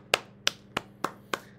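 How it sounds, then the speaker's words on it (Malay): Five crisp hand claps at an even pace, close and distinct, given in a classroom for a group of students after their task, with no talk over them. "Okey, tepukan untuk kumpulan B."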